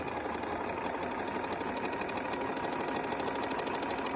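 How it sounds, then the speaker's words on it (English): A sewing machine stitches a quilt block seam in one continuous, even run. Its close, steady whirring and rapid needle chatter hold for about four seconds with no pauses and no voices. "we're going to sew all the way down"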